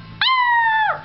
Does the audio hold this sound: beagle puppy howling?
yes